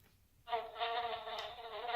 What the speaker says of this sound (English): A fly?